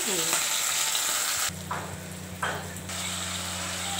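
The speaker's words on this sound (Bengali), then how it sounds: "মাছটা ভাজা হচ্ছে একটা।" Fish frying in a pan gives a steady, close hiss of sizzling oil, joined midway by a low mechanical hum.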